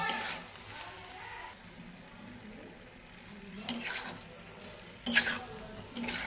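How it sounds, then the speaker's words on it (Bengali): Fried papaya pieces are stirred into a korma in a pan, soft scraping and sizzling with a few sharper clinks of the spoon against the pot, fairly quiet. "ভেজে রাখা পেঁপেগুলো দিয়ে দেব। এবার খুব ভালোভাবে মিক্স করে নেব।"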